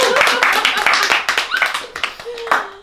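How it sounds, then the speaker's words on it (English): Audience clapping at a coffee house event, with sharp, close hand claps in an uneven rhythm, a cheer or whoop rising over them and people talking. "Guys, clap."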